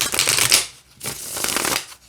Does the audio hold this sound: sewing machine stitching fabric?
no